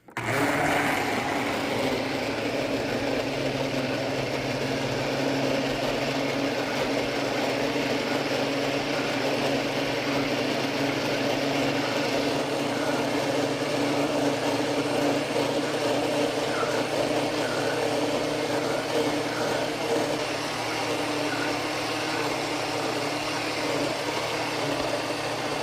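A blender runs continuously, whipping cream into butter with a steady motor whine and churning hum, loud and close, with no talk over it.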